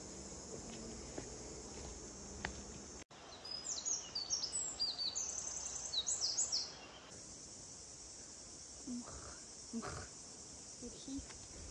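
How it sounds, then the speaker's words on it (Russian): Small birds chirp and tweet in a yew-boxwood grove along an ancient forest trail near Sochi, a bright cluster of quick calls at moderate distance over a constant high insect-like hiss, with soft rustles and no talking. "Слышите, как тут чирикает?"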